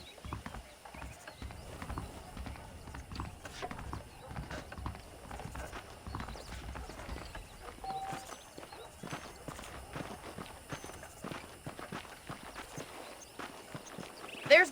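Horse hooves clip-clop along in the Red Dead Redemption video game, a steady rhythmic trotting under faint background game ambience and occasional speech, moderately quiet throughout.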